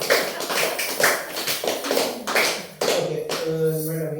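Audience at a school parents' meeting clapping hands to approve a report, a steady run of close, sharp claps lasting several seconds before fading into room noise.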